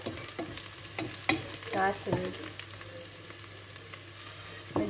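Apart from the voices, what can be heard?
onion frying in a pan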